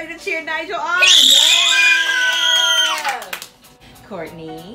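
A group of children at a gaming-challenge party scream and cheer for Nigel: loud, close, high-pitched shouting that swells for about two seconds before breaking off, followed by a shorter cheer.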